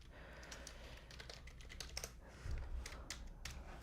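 Computer keyboard typing during daily office tasks, a steady run of quick, close key clicks with slightly heavier strokes near the end, no voices.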